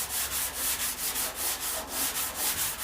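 A sanding block works back and forth over wood in steady, rhythmic strokes, each pass a close, even rasp with no talking.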